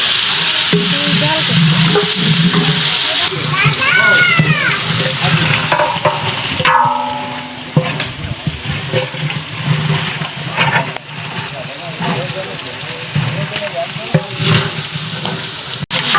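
Tomato and potato masala fries in a pan while being stirred, a loud continuous sizzle broken by scraping stir strokes, easing to a quieter crackle partway through, with a voice speaking at times.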